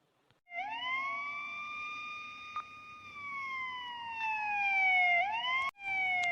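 A police car siren wails steadily and loud, close by, its tone gliding slowly down then jumping back up near the end, with no talk over it.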